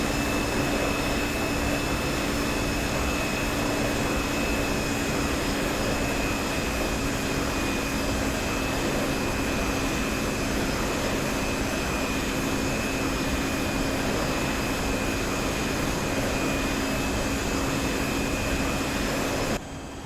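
Steady, loud airliner engine drone in a flight simulator on final approach with full flaps, a continuous even roar with faint tonal hum holding for the whole stretch, no talking.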